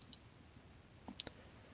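Soft mouse clicks on a computer, a faint single click followed by a quick pair of sharp clicks, alone against quiet room tone.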